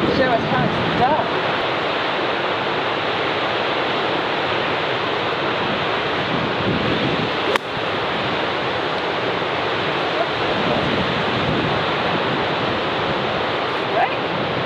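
Steady wind roars and buffets across an open golf course, a dense continuous rush of noise against the microphone with a single sharp knock partway through.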